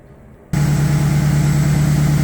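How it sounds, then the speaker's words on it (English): A 5.3 Vortec V8 in a custom 1963 Toyota FJ40 Land Cruiser fires up abruptly after a half-second of quiet and settles straight into a loud, close, steady idle with a deep, even rumble. "All right then, I'll fire it up."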